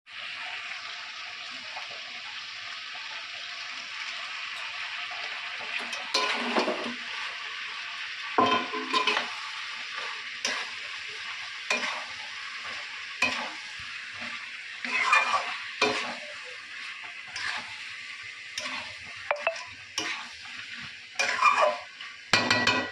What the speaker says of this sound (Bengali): আর একটু কষানো হোক